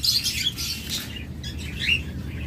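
A pair of cockatiels kept for sale with eggs chirp close by, a few short high tweets and squawks over a low background murmur, with no voices.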